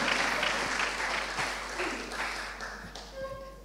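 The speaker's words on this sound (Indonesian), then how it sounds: "Jadi bolehkah kita beri tepuk tangan untuk kita semua?" Applause from an audience at a discipleship conference, a full wash of clapping that gradually fades over a few seconds, with a low electrical hum beneath.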